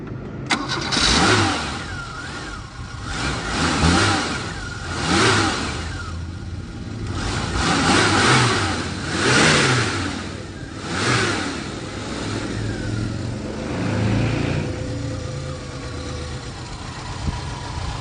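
A Dacia 1410 Sport's engine cranks and catches, then revs repeatedly in swelling bursts that rise and fall several times, loud and close throughout.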